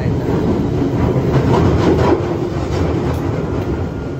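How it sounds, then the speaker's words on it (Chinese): A London Underground train runs with a steady, loud rumble and rattling of the carriages throughout, with no talk. "第一次坐这个电地铁还有点小小的激动。"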